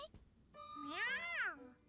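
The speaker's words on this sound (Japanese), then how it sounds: "It's a cat." Anime cat giving a single drawn-out, rising-then-falling meow, clear and close, preceded by a short click.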